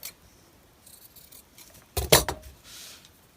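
Scissors snip through excess paper on a junk journal page: a few faint rustles, then a short cluster of crisp cuts in quick succession, close and quiet against a hushed room.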